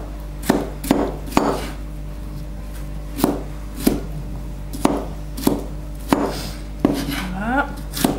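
A knife slices a bell pepper on a cutting board in a home kitchen while preparing poulet basquaise, giving sharp separate chops at an irregular, unhurried pace, close and clear against a steady background hum.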